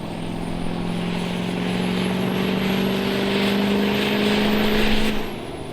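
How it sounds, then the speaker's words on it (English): Turbo diesel truck engine running hard on a dyno, a loud steady roar with a sustained droning tone that rises slightly, then drops off near the end. "So we're gonna put it back on the dyno and see how she does."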